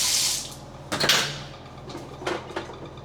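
Hot water runs from a broken shower head in a budget hostel bathroom in Macedonia, a steady close hiss of spray that shifts in level as the stream is moved, with a few brief clunks of handling.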